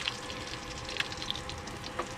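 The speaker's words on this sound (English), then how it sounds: "Let them fry up and get golden and crispy." Crappie fish fillets frying in hot oil in a pan outdoors on a lakeshore bank, a steady close sizzle with small pops and crackles throughout.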